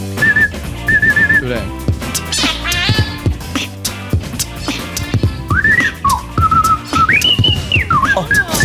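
A voice whistles in sharp, warbling bursts that imitate DJ record scratching, with quick pitch sweeps and stuttering repeats close to the microphone. A brief spoken word breaks in once.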